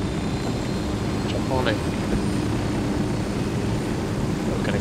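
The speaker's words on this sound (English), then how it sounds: "It's one of those Billy Badass helicopters with the Alpha." A heavily armed helicopter in the game Ghost Recon Wildlands idles on a helipad in Pucara, its rotor and engine drone loud and constant throughout, with a voice briefly speaking over it.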